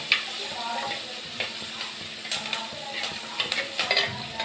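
Curry leaves sautéing in hot oil in a pan, giving a steady close sizzle and crackle broken by several sharp spatula scrapes and taps, with no talking.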